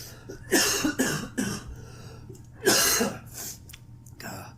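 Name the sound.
cough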